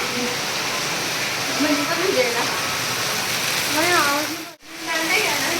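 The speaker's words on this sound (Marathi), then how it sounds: "पाऊस बघ आहे हे बघ पण आलं" Rain falls steadily in a continuous close hiss that lasts the whole stretch, with voices talking over it and a brief dropout near the end.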